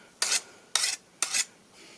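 Three crisp, rasping strokes of a flat file across the edges of old farm tools, evenly spaced about half a second apart, close and fairly loud with brief quiet gaps between them.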